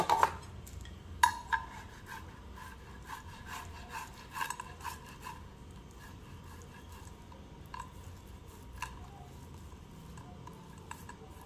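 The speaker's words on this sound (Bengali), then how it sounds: "এবার আমি এই আলুগুলোকে একটু হালকা গ্রেট করে নেব।" Peeled boiled potatoes are grated by hand in a kitchen, soft irregular rubbing and scraping strokes with a few sharper clicks near the start, fairly quiet and close, with no one talking.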